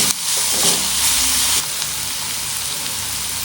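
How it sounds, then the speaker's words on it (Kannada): Sliced onion and capsicum fry in oil in a pan for a soya pepper fry, giving a loud, dense, continuous sizzle that eases slightly partway through but keeps hissing steadily up close. "ಈರುಳ್ಳಿ ಮತ್ತು ಕ್ಯಾಪ್ಸಿಕಮ್ ಚೆನ್ನಾಗಿ ಫ್ರೈ ಆಗಿದೆ."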